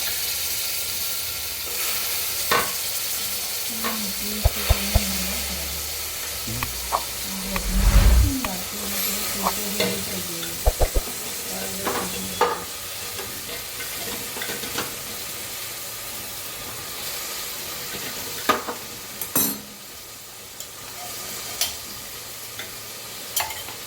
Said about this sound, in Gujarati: જે શાક સુધારી તે નાખી દઈશ.